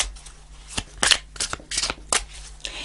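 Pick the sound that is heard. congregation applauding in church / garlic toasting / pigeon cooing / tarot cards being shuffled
tarot cards being shuffled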